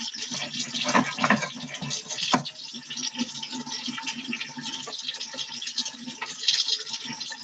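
Water streams steadily from a faucet onto hands being wetted, a continuous hissing splash with small irregular bursts throughout.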